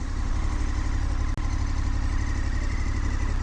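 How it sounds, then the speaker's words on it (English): A 2019 KTM 1290 Super Adventure S motorcycle engine runs in a steady, close, throbbing drone that holds throughout, with one split-second dropout partway through. "it gives you that really assertive growl from the engine as well."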